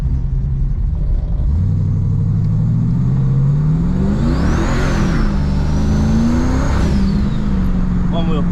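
A Dakota pickup with an 8.8 rear axle swap launches hard from inside the cab, the engine note climbing through a long rising rev, briefly breaking up as the tires scrabble, then settling back into a steady drone.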